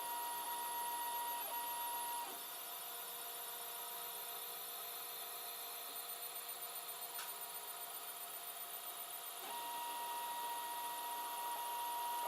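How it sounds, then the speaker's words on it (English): A 3D printer lays down the first layer of an LCD 12864 front cover in blue, giving off a steady mechanical whine with tonal stepper-motor hums that shift in pitch, a few faint clicks, and no talking. "Our printers tend to go a bit slower at first when it's doing a sort of first layer."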